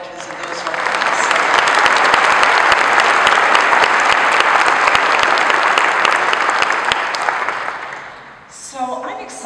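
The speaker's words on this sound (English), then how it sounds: "let's give a round of applause for all our veterans and those who are with us" Sustained loud applause from a conference audience honoring military veterans at an industrial engineering keynote, building quickly and holding steady for several seconds before fading, with a voice briefly starting to speak as it dies down.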